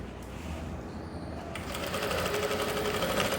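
A sewing machine stitching Korean pants runs steadily and close, a continuous fast whirring hum that grows a little louder partway through, with no talk.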